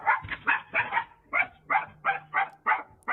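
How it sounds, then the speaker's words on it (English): A small dog barks in a quick series of about ten sharp, yappy barks, close and clear, in two bursts with a brief pause between. "He ain't worried about a little dog."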